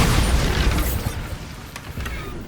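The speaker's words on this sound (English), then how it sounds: "Bombarda!" A Bombarda explosion spell goes off in Hogwarts Legacy, a loud booming blast with a rumbling low end that stays dense throughout, with a few sharper bursts within it.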